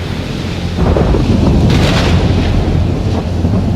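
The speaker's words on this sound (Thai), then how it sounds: "บ่เคยพบพายุใหญ่ขนาดนี้เลย" Thunder from a big storm at sea, a loud, close, continuous rumble that swells in the middle, with rain and wind noise mixed in.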